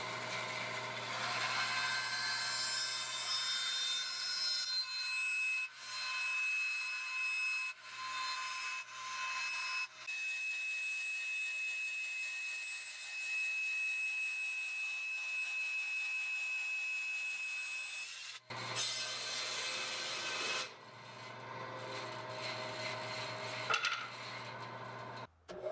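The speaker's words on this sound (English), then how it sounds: "I will take the same piece of zebra wood that I used for the headstock veneer and cut another thin sheet of it for the backplate" A bandsaw slices a thin sheet from a piece of zebra wood, a continuous loud whining cut with a steady tonal ring, pausing briefly before the blade bites again near the end.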